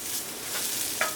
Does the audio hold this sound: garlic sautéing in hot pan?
yes